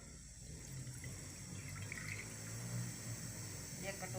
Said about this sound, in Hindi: इसके अंदर हम डालेंगे 1 कटोरी पानी।